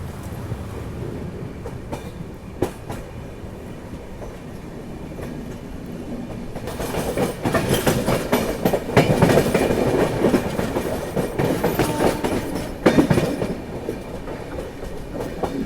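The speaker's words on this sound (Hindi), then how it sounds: "ये थी आपकी ब्रह्मपुत्रा मेल, कानपुर आउटर में क्रॉसिंग हुई अपनी" The Brahmaputra Mail passes at the Kanpur outer in a steady rumble of rolling coaches with rhythmic clickety-clack. It swells louder halfway through, with sharp wheel knocks and squeals, and no voices are heard.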